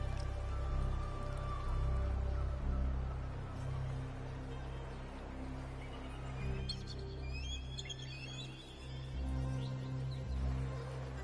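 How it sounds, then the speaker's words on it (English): Soft rain patters steadily in a calm outdoor scene from the video game Wuthering Waves, with a low ambient music bed beneath and faint bird chirps emerging toward the end. "The rain is passing."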